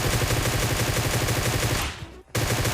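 Rapid sustained automatic gunfire from a Groza rifle in a video game, loud and close, a steady stream of shots that cuts out briefly near the end and then resumes.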